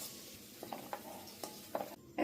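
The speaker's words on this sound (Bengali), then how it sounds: "একটু নাড়াচাড়া করলেই কিশমিশগুলো ভাজা হয়ে যাবে।" Cashews and raisins frying in oil give a soft sizzle, punctuated by a few light clinks and scrapes as they are stirred, quiet and close with no talking.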